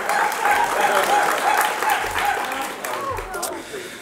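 A comedy audience gives a comedian loud, sustained applause with scattered cheers, the clapping dense and continuous before tapering slightly toward the end, with a voice faintly audible over it.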